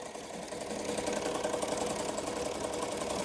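A sewing machine stitching a rhinestone shirt runs in a steady, quiet mechanical whir with a fast even rhythm, heard close and alone.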